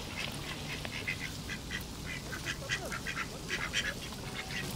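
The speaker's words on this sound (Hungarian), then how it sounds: "Ez milyen érdekes, ez az egyik kacsa" Ducks quack in a busy flock at a Texas pond, many short calls overlapping at a moderate distance against a steady outdoor background.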